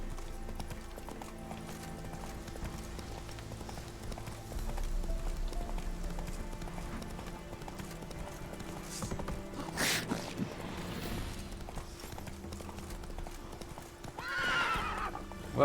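Geralt's horse Roach in The Witcher 3 clip-clops steadily with faint hooves and tack under game ambience, with a loud burst of noise midway and a short whinny near the end.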